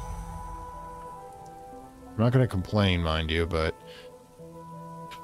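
Steady rain falls throughout a scene in the video game Book of Hours, a soft continuous wash that carries on under a voice as he talks for a couple of seconds.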